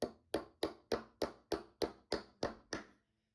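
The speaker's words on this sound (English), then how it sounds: "you can take a hammer and tap it on the rest of the way" Nine evenly spaced metallic taps from a hammer driving a shaft into a Roman shade clutch disc, sharp and close, each ringing briefly before the next, then silence.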